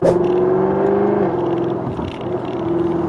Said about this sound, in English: I have it in the sport exhaust valves open, so that way you guys could hear that crackling and popping of that exhaust.